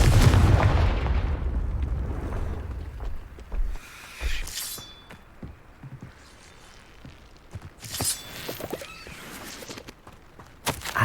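Confringo explosion spell in the video game Hogwarts Legacy, a loud blast at the start that rumbles away, then a few scattered booms and bursts with footsteps in between.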